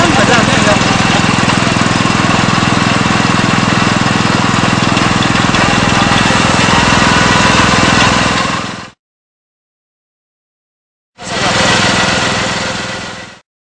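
A heavy drilling rig engine at a soil-testing site for a building runs loud and steady nearby, cuts out abruptly, then starts again briefly after a pause.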